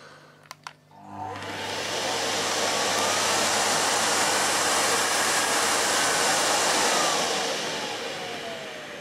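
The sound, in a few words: Miele Revolution 500 S556 vacuum cleaner running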